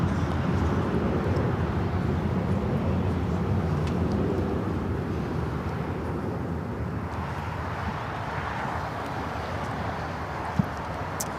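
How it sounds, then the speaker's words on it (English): A Delta Airlines Boeing 737-900ER takes off at LAX, heard as a broad, steady jet roar at a distance that slowly shifts in tone across the recording, with faint scattered clicks over it. "This is Delta Airlines 811 taking off to Miami, Florida"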